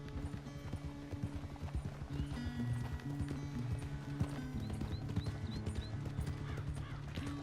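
Horse hooves clip-clop steadily in Red Dead Redemption 2, the rhythmic footfalls sitting under a dense bed of game music and ambience, with occasional chirps above.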